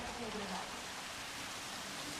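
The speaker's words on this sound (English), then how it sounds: "I do like the rain here. The rain's actually pretty nice." Steady broadband rain hiss from the video game Jurassic World Evolution, continuous and even throughout, with a faint voice murmuring under it early on.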